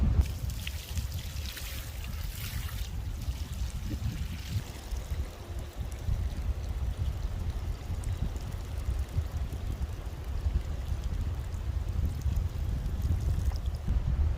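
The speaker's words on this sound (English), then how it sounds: "So we're going to pour off some water." Muddy water poured off a bucket of clay being cleaned for pottery, a continuous low trickling and splashing flow, fairly close and steady, with a brighter gush early on.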